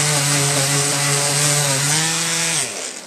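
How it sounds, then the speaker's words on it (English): Painted wood on a coffee table being sanded down with a power sander, a loud continuous buzzing grind close up that dips in pitch near the end, with no talking. "Just sand and blend it in."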